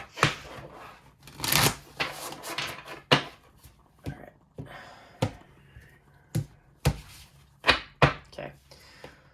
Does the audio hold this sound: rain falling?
no